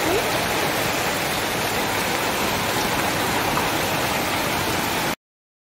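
Steady, dense rushing of heavy rain, loud and continuous for about five seconds before cutting off abruptly.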